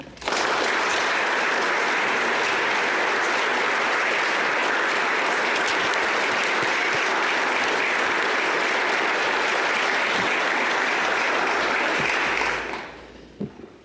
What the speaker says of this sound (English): I would ask you to give them a round of applause.